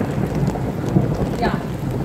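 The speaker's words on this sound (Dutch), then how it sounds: "Het onweert op dit moment heel hard." Steady heavy rain pours down with a low rumbling thunder roll beneath it, a continuous stormy wash without speech.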